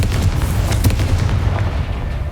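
A Confringo spell explosion from the video game Hogwarts Legacy, sounding as a loud, continuous rumbling blast with deep booming low end and a few sharper cracks, held steady and dense throughout with no voice.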